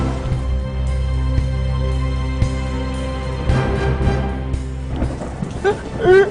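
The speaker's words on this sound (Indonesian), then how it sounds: "Mana hujan lagi" Heavy rain falls steadily with deep rolls of thunder, loud and continuous, with scattered clattering noises rising near the end.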